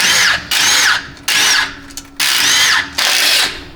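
A power tool, likely an impact wrench, cracks loose truck bolts in four loud, close bursts of whirring and hammering, with short quiet gaps between them.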